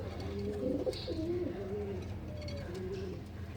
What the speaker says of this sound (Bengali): কাল রাতে আরবির আব্বা এই জোড়া কবুতরটা নতুন আনছে